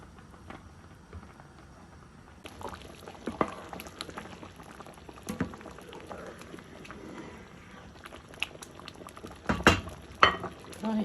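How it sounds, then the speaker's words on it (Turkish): Fruit boils in a pot, bubbling and simmering steadily at a low level, with occasional louder pops and gurgles rising from the liquid. "Yemişimiz kaynıyor."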